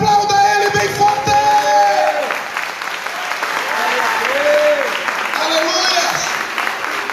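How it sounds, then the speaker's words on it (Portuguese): A congregation claps hard at a church conference, loud continuous applause with whoops and shouts mixed in, while a preacher's voice calls out over the top. "Aplauda Ele bem forte."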